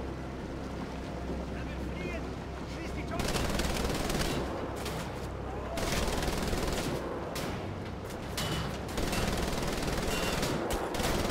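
A mounted turret machine gun in Wolfenstein: The Old Blood hammers out long sustained bursts in three loud waves, with brief lulls and a low rumbling bed under faint voices.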